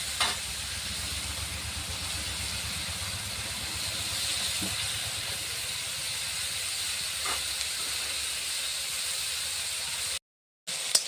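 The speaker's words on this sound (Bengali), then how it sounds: "চিংড়িগুলো এইভাবে নেড়ে চেড়ে হালকা করে ভেজে নেব" Small shrimp with salt and turmeric fry in a pan, giving a steady, even hiss and sizzle for several seconds, with faint stirring knocks and a brief silent gap near the end.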